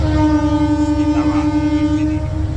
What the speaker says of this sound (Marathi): आवाज ऐकला गाडीचा